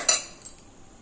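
Ingredients for milk-based temple-style paramannam drop into a metal kadai with a sharp clink of metal utensil near the start, a softer knock about midway, then quiet.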